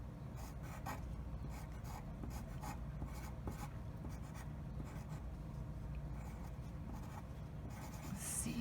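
Chalk drawing on the ground, a steady close scratchy rubbing with small irregular strokes continuing throughout, no talking.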